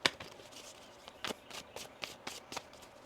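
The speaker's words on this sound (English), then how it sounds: "One more shuffle." A deck of tarot cards is shuffled by hand: a quick series of crisp riffling snaps and slaps, about eight bursts in three seconds, close and fairly loud with no talking.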